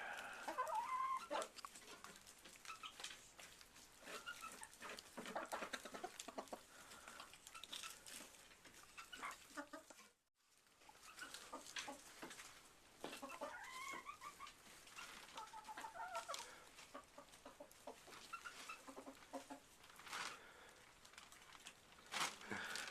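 Bantam hens, including a small Sebright, and full-size chickens cluck and chatter steadily inside a winter coop, a busy flock sound close by with a brief dropout midway.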